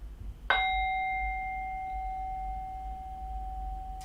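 A singing bowl is struck once with a mallet, giving a clear bright ring with steady overtones that sustains and slowly fades over a quiet background.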